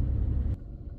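A Mitsubishi Pajero engine idles nearby as a low, steady rumble, which drops to a softer level halfway through the moment.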